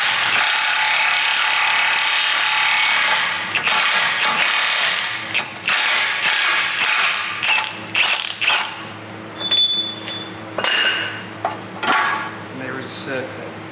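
A new ball joint being pressed into a Honda Civic Type R suspension: ratcheting metal clicks and clanks, then a series of short sharp metallic knocks and scrapes, close and fairly loud.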